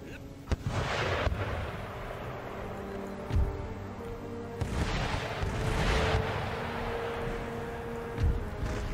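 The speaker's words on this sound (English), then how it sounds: "Why is my field artillery not firing?" Field artillery firing in the video game Empire Total War: repeated heavy booms, some distant and some close, over a constant battlefield rumble, with a few sharp reports standing out.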